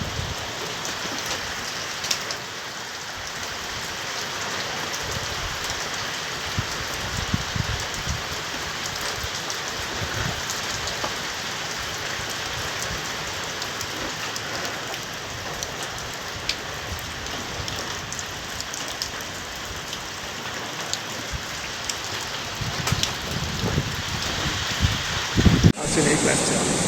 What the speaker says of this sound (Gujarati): એટલો બધો ધોધમાર વરસાદ પડ્યો છે